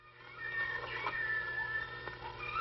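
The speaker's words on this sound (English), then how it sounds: "That's just a little baby lion." A baby lion cub gives a drawn-out, wavering cat-like cry at close range. It sits over a faint steady background hum.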